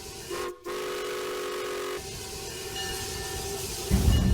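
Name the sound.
sugar mill steam locomotive running, fueled by sugarcane fiber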